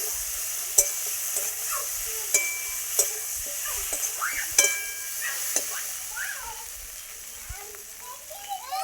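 Potatoes fried earlier being stirred in a hot pan, with a faint sizzle beneath intermittent spatula scrapes and clinks, close by, and brief voices in the background.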